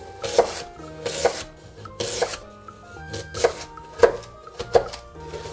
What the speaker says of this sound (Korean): 당근 한 조각 80g을 잘라주세요.